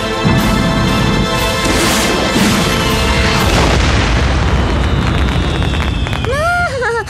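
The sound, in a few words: model rocket exploding with a big bang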